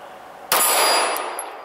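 A single gunshot strikes a steel gong target about 15 to 16 yards away, a sharp loud crack followed by a bright ringing metallic clang that decays over a second, with no talk.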